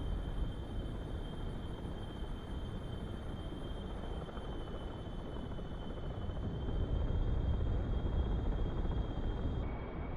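A Harrier jet in a flight simulator game roars with a steady, dense engine drone that holds constant throughout, loud and continuous with no voices.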